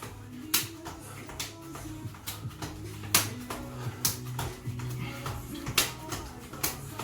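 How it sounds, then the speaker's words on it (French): Sharp hand claps repeat roughly every second during a group fitness workout, while steady rhythmic music plays underneath. "On va applaudir sous les mains. Allez applaudir."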